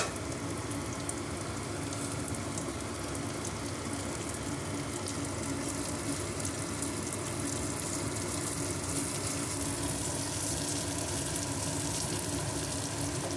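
Stuffed brinjal masala curry cooking in oil in a pan, giving a steady, dense sizzle and crackle that runs unbroken and fairly close, with no voices.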